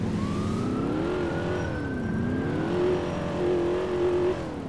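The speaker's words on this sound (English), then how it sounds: "Stop revving your engine and drive" A car engine in GTA IV revs up and down in a steady, rising and falling drone, moderately loud and close, with no voices.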